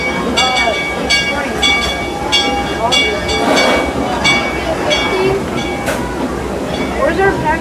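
Interior of a moving train on a railroad, with steady rumbling and rattling of the rail cars throughout and bright metallic squeals and clanks from the wheels on the track, with a voice speaking over the noise.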